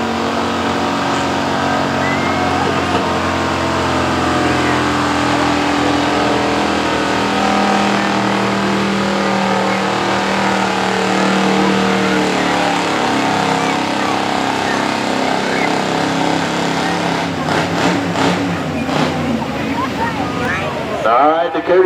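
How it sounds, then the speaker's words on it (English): Pulling truck engine at a truck and tractor pull in Caldwell, Ohio, roaring loud and sustained across the run with a continuous throaty drone, crowd noise and an announcer's voice faintly mixed in, ending in a burst of clatter. "Last truck of the class, Dakota Smith out of Dresden, Ohio."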